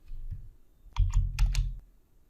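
Keys tapped on a computer keyboard in two short bursts of quick, close clicks with brief pauses between, alone with no talking.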